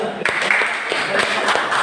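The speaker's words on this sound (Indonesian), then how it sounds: "udah tepuk tangan dulu" An audience in a classroom debate session gives brief applause, a short burst of claps mixed with talking and room noise.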